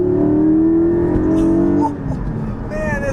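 Porsche 718 Cayman GT4 pulling hard through second gear, a loud rising engine note climbing steadily before a shift and lift, heard from inside the car.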